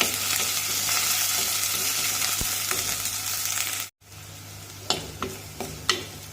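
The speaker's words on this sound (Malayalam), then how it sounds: "പിന്നെ കട്ട് ചെയ്ത് ഇട്ടിരിക്കുന്ന പച്ചമുളകും കൂടെ കറിവേപ്പിലയും എല്ലാം കൂടെ ചേർത്ത് വഴറ്റിയെടുക്കാം" Green chilies and curry leaves sauté in hot oil for a mackerel curry, giving a steady close sizzle with a brief cut midway, then sharp scraping stirs and clinks of a spoon against the pan.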